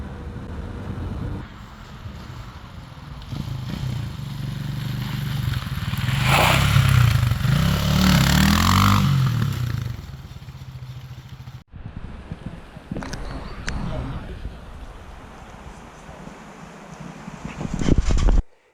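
A Shineray Tricker 250 motorcycle engine roaring steadily at high speed with heavy wind rush over the microphone, the noise swelling mid-ride before an abrupt cut and continued riding.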